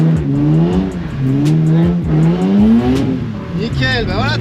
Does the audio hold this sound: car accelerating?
yes